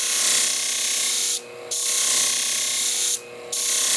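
Shears are sharpened to raise a burr, giving a continuous loud rasping, grinding scrape that breaks off twice for brief pauses before resuming.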